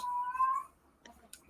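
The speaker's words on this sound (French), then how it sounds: "Arrête de miauler. tous les jours en live, elle miaule." Mimi the cat gives one clear, drawn-out meow up close, followed by a few faint small sounds.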